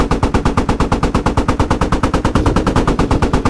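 Automatic gunfire in a video game fires as the player shoots an enemy: a loud, close, evenly spaced stream of rapid shots, roughly nine per second, running nonstop for several seconds.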